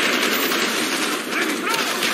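Sustained automatic AK-47 fire in Call of Duty: Black Ops, a dense, loud continuous rattle of gunfire that fills the whole short stretch without a break.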